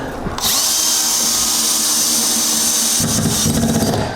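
Power drill driving a screw into a wall stud while mounting a 75-inch TV: a loud, steady high whine that rises once the motor spins up, then shifts in tone as the screw seats, close up.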